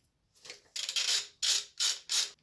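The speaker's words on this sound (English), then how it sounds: "I'm gonna use this flexible ratchet." A flexible ratchet undoing power steering pump bolts on a 1.8T C5 Audi A6 gives four close, crisp bursts of rapid ratcheting clicks with short pauses between them.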